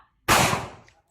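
One sharp, loud gunshot close by at an outdoor firing range, bursting suddenly out of silence and fading off over a brief echoing tail.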